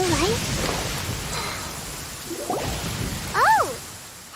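Storm from the game Genshin Impact: steady rain hiss with a low thunder rumble running through the clip, overlaid by game voices and chirping tonal sounds.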